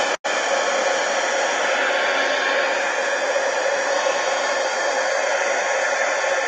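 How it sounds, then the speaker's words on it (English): A heat gun blows hot air in a steady, loud, even hiss. After a brief click at the start it runs without a break. "Heat gun."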